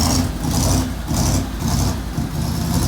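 A 1948 Ford idles through a newly fitted exhaust with a deep, throaty rumble, steady and close, with rhythmic pulses and slight revs.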